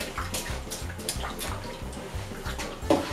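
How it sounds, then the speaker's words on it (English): Clean rinse water being poured out of a basin after a second rinse while bathing a stuffed toy, a steady splashing, trickling flow heard up close with low rhythmic pulses underneath. "pour out this clean water"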